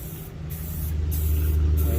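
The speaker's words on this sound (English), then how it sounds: "before I put it on my surface, give it a couple of test sprays" A spray paint can spraying primer in short test bursts, three brief hissing sprays close by over a steady low background hum.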